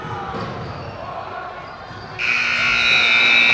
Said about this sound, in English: On that buzzer will end the first of 2 games we have tonight, Mr. Haugen.